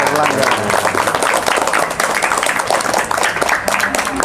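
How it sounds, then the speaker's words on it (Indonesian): Children in a classroom lesson clap together for a classmate, a dense, continuous patter of hand claps at moderate loudness that runs unbroken throughout. "Terus tepuk tangan dulu buat Erlangga."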